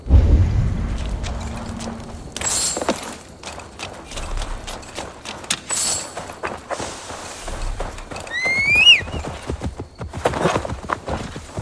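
In Assassin's Creed Valhalla, a horse's hooves clip-clop in a steady walking rhythm, mixed with other game sounds and a possible faint whinny.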